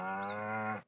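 A single drawn-out moo from a cow in the video game Staxel, loud and close, with a steady tone lasting nearly a second before cutting off abruptly.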